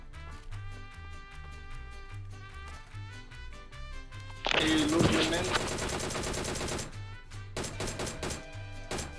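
Rapid automatic gunfire from a first-person shooter game as a player fires at bots, with a dense burst of loud shots over background game sounds and music.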